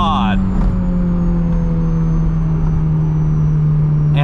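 Honda S2000 engine pulling hard as it accelerates, its VTEC stage kicking in near 6,000 RPM, a loud steady rising drone heard from inside the car, with a voice speaking briefly at the start and end.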